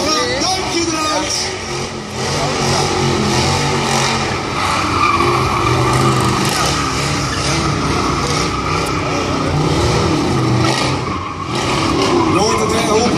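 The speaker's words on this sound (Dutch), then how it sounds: "De derde gaat achtjes driften om de andere auto's heen." Car drifting figure eights around other parked cars at an indoor tuning show at Ahoy, tires skidding and squealing continuously over a steady engine roar, loud and close, with voices talking underneath throughout.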